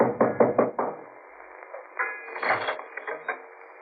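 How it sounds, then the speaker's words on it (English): Knocking on a door as a sound effect in a 1948 radio drama, set at a boat-hire office by a landing. A quick cluster of four close, sharp knocks is followed by fainter clattering sounds. "I knocked for Peterson"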